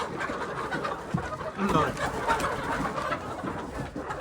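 Desi hens cluck and squawk close by at a poultry breeder amid a busy mix of farmyard noise, with a voice speaking over them.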